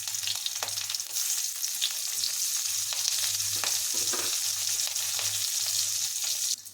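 Chopped onion chunks dropped into a hot pan and sizzling, a sudden onset of bright, steady frying hiss with a few stirring scrapes, close and continuous before cutting off.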